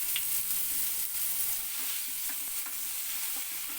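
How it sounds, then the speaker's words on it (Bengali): Potatoes fry in hot oil in a pan until reddened. The sizzle is steady, close and loud, with light crackles and spits throughout and no voices. "এই আলুটা আমি এই তেলের মধ্যে লাল করে ভেজে নেব।"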